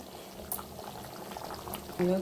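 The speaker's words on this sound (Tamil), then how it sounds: "கொதிச்சுட்டு இருக்குதுங்க. நல்லா இன்னும் கொதிக்கட்டும்." Steady bubbling of tomato kurma simmering in a pot, close and soft, ending with a brief tonal sound.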